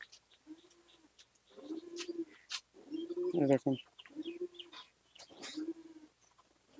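An Andhra pigeon held in a cage gives short, low cooing calls in several bursts, close by, while someone speaks briefly between them.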